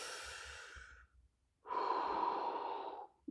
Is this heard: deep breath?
yes